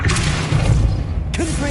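Depulso force-push spell cast in Hogwarts Legacy, a short, loud thumping boom with a brief rushing whoosh.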